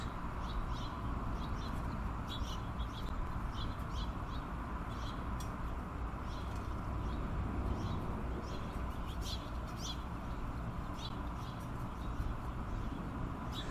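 Birds calling outdoors in short, repeated crow-like caws that come and go over a steady, fairly loud background hiss, with no talking.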